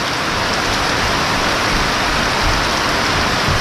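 Heavy rain pours steadily on a farm, making a dense, loud, unbroken hiss that fills the whole moment with no gaps and no voices.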